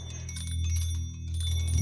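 Hanging wind chimes made of bells, cutlery and metal chimes jingle in a sudden gust, light tinkling metallic tones scattered over a steady low musical drone, moderately loud with no talking.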